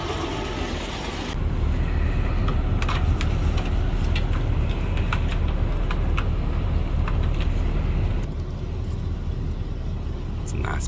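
Steady low road rumble inside a coach bus heading to SeaTac Airport, a constant engine and tyre drone that shifts in level partway through.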